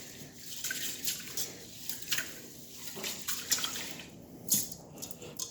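Basmati rice swished and rubbed by hand in a pot of water, giving a steady close wet sloshing with soft grainy rustles and small splashy peaks, fairly quiet and continuous throughout with no talking.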